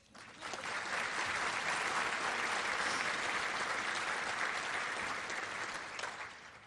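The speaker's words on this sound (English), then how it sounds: "Applause." Steady, dense applause from a seated audience at a law enforcement appreciation luncheon swells quickly and holds evenly for several seconds before tapering off at the end.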